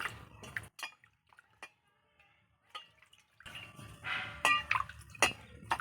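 Eggplant being rinsed under water, with soft drips and splashes plus clinks of dishes or utensils in a bursty, close rhythm, broken by a quiet gap in the middle.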